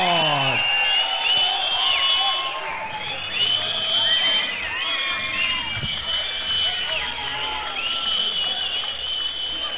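A fight-night crowd cheers loudly for boxer Peter 'Bulldog' Davenport from Geelong, a dense wall of whoops, shouts and shrill whistles that stays near and loud throughout.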